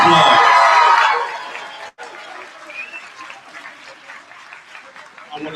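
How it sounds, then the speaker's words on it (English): An audience at an eighth grade promotion ceremony breaks into a loud burst of applause and cheers for the teachers, which fades after about a second into scattered murmurs and talk. "let's give all of our teachers, our leadership, everyone from Friendship Chamberlain a huge round of applause"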